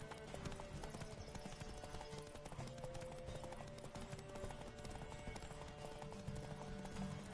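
Horse hooves gallop in The Witcher 3 video game, a fast, steady clip-clop rhythm close up and continuous over a dense background of game sound.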